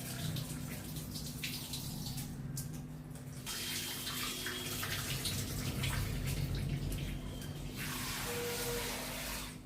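Water runs steadily as soaked black kavuni rice is washed by hand in a kitchen, a continuous close splashing and swishing that swells and eases over several seconds, with no talking.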